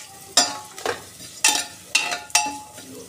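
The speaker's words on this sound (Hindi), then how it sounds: "करी पत्ता, इन सबको भी अच्छे से हम थोड़ा सा फ्राई कर लेंगे।" Curry leaves and dried red chillies fry in a hot pan, giving four sharp, spluttering sizzle bursts with scraping stirs in between, close and fairly loud.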